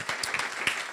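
A church congregation applauds during a service, a close, uneven patter of claps with brief louder bursts.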